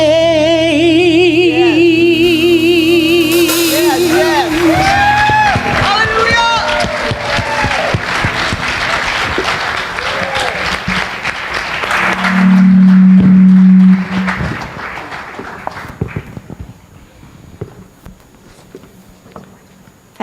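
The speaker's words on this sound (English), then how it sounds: "She deserves another round of applause for that" Applause and cheering from a congregation for a singer at a church service, a steady wash of clapping rising after the final notes of music, then fading as footsteps and talk take over.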